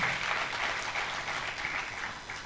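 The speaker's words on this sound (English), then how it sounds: "A round of applause for him." Audience applause at a lecture on policy making and good governance in Nigeria, a steady wash of many hands clapping together, fairly soft and even throughout with no voices over it.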